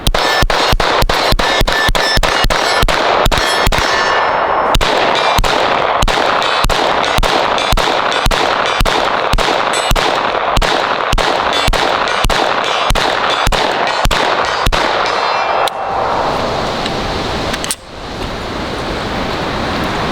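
A NEMO Mongoose direct-blowback pistol caliber carbine firing a long string of close, loud shots at a fast, slightly uneven pace, followed by a last isolated shot and ringing outdoor ambience.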